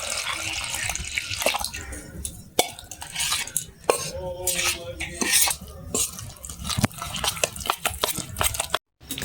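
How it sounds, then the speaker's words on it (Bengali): Thick rice-flour batter for Bengali dudh aske pithe being mixed by hand with water in a bowl, with wet squelching and stirring, light clinks and splashes throughout, close and busy, no talk. "এটা আমি এখন জল দিয়ে মেখে নিচ্ছি।"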